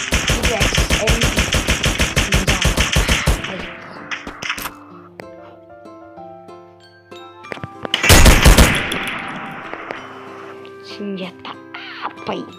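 Rapid automatic fire from an XMP gun in the Free Fire mobile game, a loud, fast, even burst for several seconds, then scattered game effects and another short burst, with a player talking over it.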